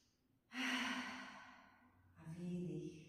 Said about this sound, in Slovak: dáme si aspoň tak 3-krát hlboký nádych a výdych